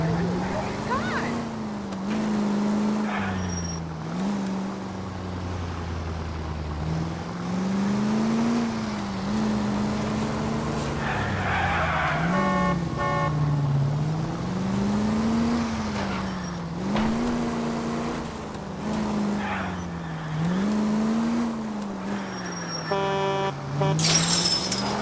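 A car in the video game L.A. Noire being driven recklessly through city traffic, its engine droning and rising and falling as it accelerates and weaves, with brief screeches and horn-like tones breaking through.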